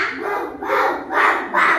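Children's voices imitate a dog barking, four short bark-like calls in a quick, uneven series.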